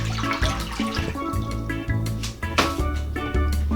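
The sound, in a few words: pouring six cups of water into a cooking pot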